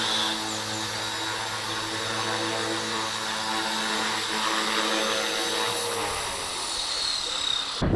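A WLtoys V950 radio-controlled helicopter flies nearby, its motor and rotor whine holding a steady, loud drone with a constant pitch for several seconds before cutting off abruptly at the end.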